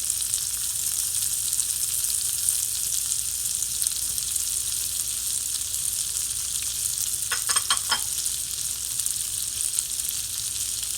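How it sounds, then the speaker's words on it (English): Purple onions fry in a pot with a steady, bright sizzle that holds constant throughout, close and alone, with a few faint clinks of a utensil near the end. "we're going to get the purple onions in"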